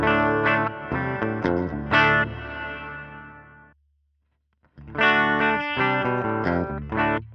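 Electric guitar through a Line 6 Helix Clarity clean amp model, played in bright, clear chord strums and picked notes with effects, loud and close, pausing for about a second before resuming.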